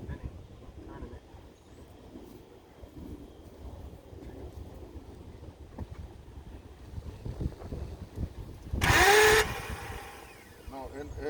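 A BMW E28's engine cranks over without starting, a low steady churning rumble in the open with wind buffeting the microphone, a sharp noisy burst near the end, and people talking throughout.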